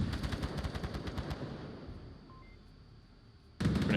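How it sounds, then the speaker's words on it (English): Gunfire is traded in a competitive match of the VR shooter Onward. Fast, evenly spaced automatic bursts come first, then fade into a quieter spell with scattered distant shots, and a loud burst cuts in right at the end. "Free fire on both sides."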